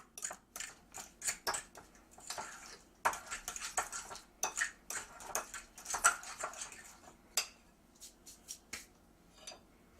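Spoon scraping and clinking against a bowl while deviled egg filling is mixed with salt and pepper, for lobster deviled eggs; quick irregular taps and scrapes, close and fairly quiet, with no talking.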